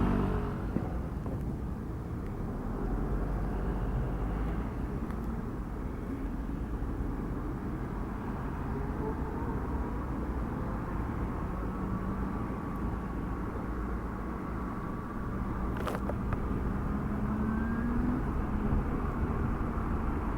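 Steady wind roar and road noise while riding a Super Soco TC MAX electric motorcycle on a motorway, a constant broadband rush with a faint whine and no engine note throughout.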